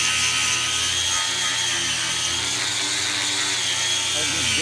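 An angle grinder grinds a weld flat on the steel of a 1964 Ford Fairlane race car build, a loud, steady, harsh whine with a gritty rasp that runs without a break for the whole stretch.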